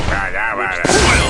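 A fiery sky-strike blast from the Skylanders Battlecast card game lands with a loud, dense burst of booming impact noise that swells and continues after a sudden surge partway through.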